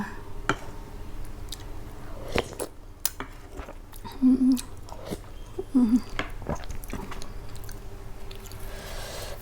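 Someone eats fresh shrimp papaya salad, giving faint close-up chewing and soft squishy bites with a few clicks of utensils against a quiet room background.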